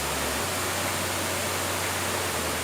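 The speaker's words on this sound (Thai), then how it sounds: "ดูน้ำตกครับผมน้ำตก" Waterfall at Khlong Yot Nam in Nakhon Si Thammarat, surrounded by forest, gives a steady, even rush of falling water that fills the whole short stretch with no voices.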